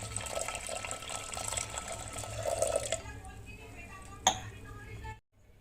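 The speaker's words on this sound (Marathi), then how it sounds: "डाळ आपण आता दोन तीन वेळा पाण्याने स्वच्छ धुवून घेणार आहे" Running water splashes and trickles as chana dal is swished in a bowl, then it quiets, with a single sharp knock near the end.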